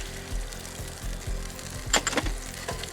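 Capers and lemon juice sizzle in a frying pan, a steady close crackle under a low hum that flares briefly into sharper spitting bursts, with no voices.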